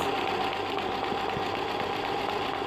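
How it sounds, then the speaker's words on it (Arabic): Embroidery sewing machine running at reduced speed while stitching a flower, a steady close motor whir with a fast, even needle rhythm throughout. "شوفوا الماشينة السرعة راهي ناقصة خلاص"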